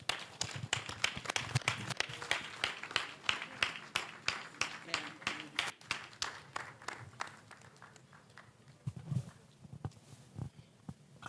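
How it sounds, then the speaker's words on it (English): Audience at a TechConnect awards event in Abuja clapping for winners, steady mid-distance applause that gradually thins toward the end, with a voice speaking over it. "Please keep clapping."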